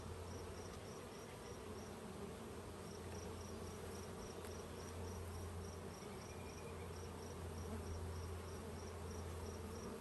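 Honeybees in a hive being inspected produce a constant, soft droning buzz that holds steady throughout, fairly faint, with a thin high background whine and no voices.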